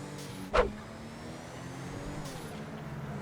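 Car driving in GTA V, a low steady engine drone with one brief whooshing pass or hiss early on, moderately loud and continuous throughout.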